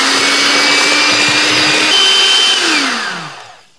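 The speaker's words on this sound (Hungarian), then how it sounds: "elektromos kézikeverő, és szépen ezzel teljesen habosra keverjük" An electric hand mixer whisks eggs and sugar until foamy, a loud steady motor whine with a faint pitch drift, running close for several seconds before spinning down and stopping.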